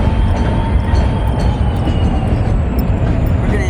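A train rolls past at close range with a loud, steady rumble and a faint high rail whine that drowns out everything else for the whole stretch.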